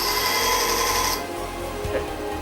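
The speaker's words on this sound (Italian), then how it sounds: "Nel frattempo faccio vedere la molatura del rasoio." A straight razor blade is pressed against a spinning grinding wheel, giving a loud, bright, steady grinding hiss that cuts off after about a second, leaving the lower hum of the running wheel and a faint knock.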